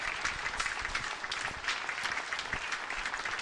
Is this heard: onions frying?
no